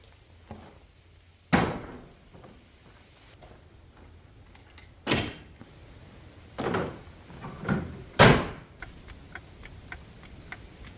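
A loose wheel weight being tapped back onto a tire wheel: about five sharp, separate knocks spread irregularly over several seconds, with a quiet background between them and no talking.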